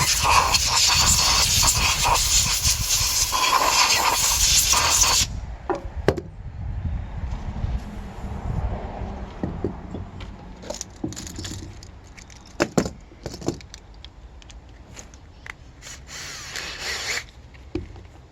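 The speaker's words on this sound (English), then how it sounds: "Go ahead and run the Scotch-Brites in it." A drill spins a Scotch-Brite pad inside a ported engine cylinder to hone it, starting with a loud steady whine that cuts off, followed by scattered clicks, knocks and brief bursts of spinning.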